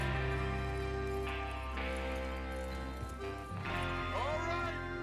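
Horses clip-clop at a steady pace in Red Dead Redemption 2, their hoofbeats mixed with a thick layer of in-game music and ambience, with a brief whinny near the end.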